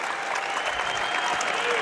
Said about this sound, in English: But Cade Rule gives the Chattanooga fans something to cheer about.